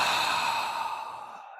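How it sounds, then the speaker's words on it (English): A long, deep exhaled breath during a qi gong exercise, a breathy whoosh fading out over about a second and a half, close and alone. "3 deep cleansing breaths."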